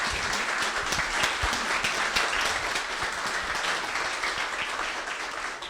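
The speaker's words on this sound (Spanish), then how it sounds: "Fuerte aplauso." Loud, sustained applause from a crowd at a Go programming talk, a dense, even wash of many hands clapping that continues throughout without pause.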